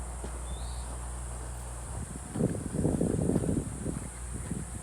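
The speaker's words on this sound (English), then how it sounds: "Hear a lot of crickets already early afternoon." A constant high-pitched chorus of crickets on a warm early afternoon in Montana drones throughout, joined midway by nearby crunching, rustling steps around a log cabin.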